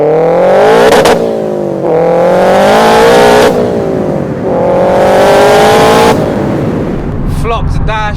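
A 500 BHP Subaru estate with anti-lag, competition clutch and six-speed conversion revs hard in repeated bursts, each climbing then cutting back with gear changes, ending in crackling pops, very loud and close with voices underneath.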